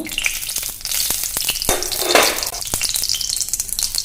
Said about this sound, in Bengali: ফুরনের জন্য কড়াইটা বসিয়ে দিয়েছি এখন আমি তেল দিয়ে দিব